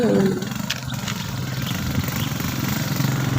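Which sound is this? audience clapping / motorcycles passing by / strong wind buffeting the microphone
motorcycles passing by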